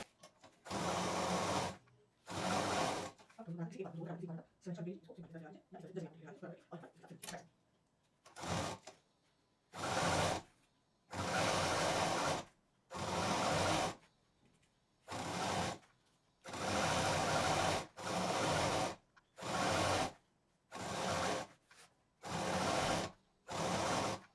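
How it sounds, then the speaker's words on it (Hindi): A sewing machine stitches leftover fabric into a doormat, running in repeated bursts of a few seconds each, separated by short pauses. An early stretch carries softer handling noise, and no one speaks. "शुरू में थोड़ा कपड़ा मोड़ देंगे और सिलना स्टार्ट कर देंगे।"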